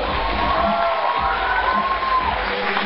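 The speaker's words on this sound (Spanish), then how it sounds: "un aplauso para ellos" Crowd at a manga convention in Murcia cheering and clapping for young Pokémon dancers, a loud continuous wash of shouts, children's voices and scattered claps over a brief moment.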